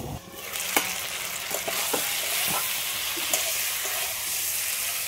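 Turmeric powder and green chillies sizzle in hot oil with a continuous bright frying hiss, broken by a few scattered pops and light stirring clicks.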